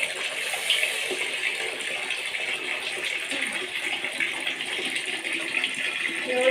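Steady rushing water flows and gurgles continuously, like water running down a drain, with faint voices in the background.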